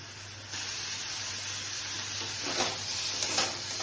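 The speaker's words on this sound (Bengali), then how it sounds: "তাই এইভাবে পনিরগুলোকে একটু ফ্রাই করে নিয়েছি, বাটার দিয়ে একটু নুন দিচ্ছি, একটু ফ্রাই করে নিচ্ছি" Paneer frying in butter in a pan: a faint, steady sizzle that turns into brief louder hissing bursts with stir noises near the end.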